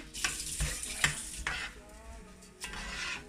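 Basmati rice stirred in a pan for rougail saucisse: close spoon scrapes and clinks in uneven strokes over a soft sizzle, quiet and without talk.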